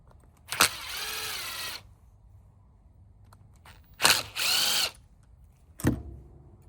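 A power drill backs out screws from a Huskee lawn mower's carburetor choke, three close, loud bursts of whirring with pauses between them.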